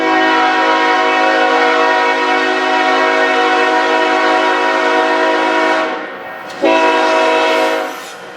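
Freight manifest train led by BNSF locomotives sounds a loud, steady multi-tone horn close by, holding for several seconds, then cutting off and blasting briefly once more before fading.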